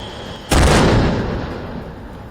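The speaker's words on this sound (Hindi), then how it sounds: "सेना और बचाव अभियान में जुटे जवानों ने वहां मौजूद चट्टानों के पास धमाके किए" A single heavy blast set off by army rescue personnel to break apart rocks and clear a path after a cloudburst in Kishtwar, with a sudden loud boom that decays into a long rumbling wash.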